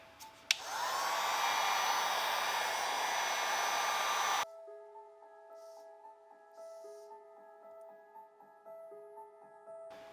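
A heat blower warming a dirt bike graphic roars on abruptly, blowing loud and steady for about four seconds, then cuts off and leaves quieter faint tones and small clicks.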